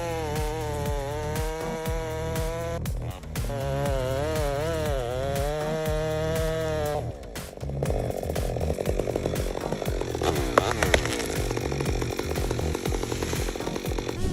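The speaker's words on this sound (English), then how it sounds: "A huge oak tree was felled by a chainsaw in just 5 minutes." A chainsaw fells a huge oak tree, its engine roaring loud and close without a break, the pitch rising and dropping as the chain bites into the wood and the load changes, with a rougher, harsher grind in the second half.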